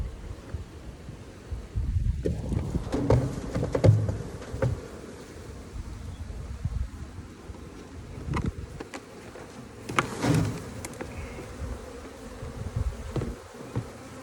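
Honeybees buzz steadily around a hive as they are shaken into it, a dense droning hum with louder swells as bees fly close past, some wind rumble underneath.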